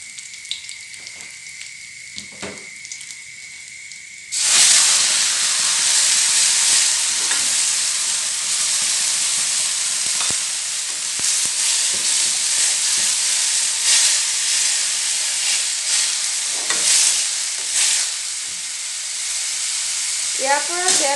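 Fenugreek seeds and spices fry in hot oil for a vegetable dish. After a quiet opening, a loud, steady sizzle rises suddenly and holds, with occasional stirring scrapes against the pan.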